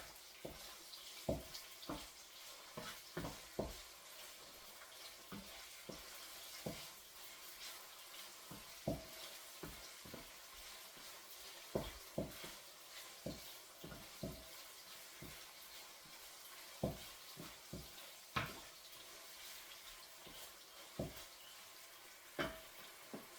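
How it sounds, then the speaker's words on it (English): Beef pieces deep-fry in hot oil in batches for ginger beef, giving a quiet, steady sizzle broken by frequent sharp pops and crackles, with no speech. "These are frying up lovely."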